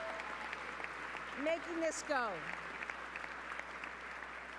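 Faint audience applause at a governor's State of the Commonwealth address, a low steady patter underneath a voice speaking over it.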